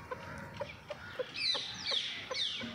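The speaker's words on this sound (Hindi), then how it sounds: "बड़ी चंगी क्वालिटी का ठिकर जानवर है" A Thiker Aseel rooster clucks in a series of short, close calls, followed by a few longer, higher squawking calls near the end of the brief recording.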